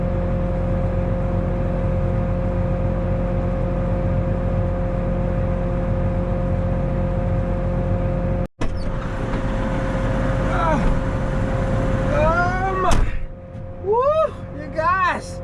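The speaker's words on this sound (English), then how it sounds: "Getting in that tractor and he's dipping out." A farm tractor at a planting job idles with a steady low engine hum, then after a brief cut it pulls away with rising and fading engine whines while people talk nearby.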